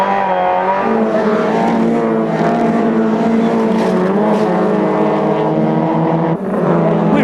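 Fiat Punto Abarth Cup race car engine pulling hard through the gears in a 2002 circuit race, a loud, sustained, rising engine note with steady harmonic whine, close and continuous with a brief dip near the end.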